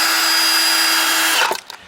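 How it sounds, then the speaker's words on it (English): A power drill drives a screw into a mounting plate on concrete in one steady whine of under two seconds. The whine stops abruptly with a few small knocks. "I'm just screwing on the plates here"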